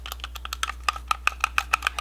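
Clicky R3 and L3 stick buttons on a PowerA Enhanced wired Xbox One-style controller, pressed in a quick irregular series of sharp, close plastic clicks, about a dozen in two seconds, over a faint steady hum.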